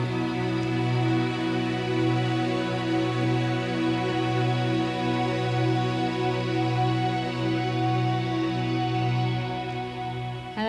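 A Kurzweil K2000 synthesizer from 1991 holds a sustained ensemble strings sample, a smooth steady chord with a gentle slow pulse, alone and unbroken.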